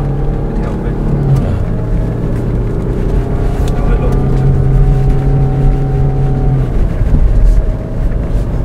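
A 2021 Land Rover Defender drives across sand, its engine a steady, moderately loud drone with a faint tonal whine that holds for the whole stretch, without a break.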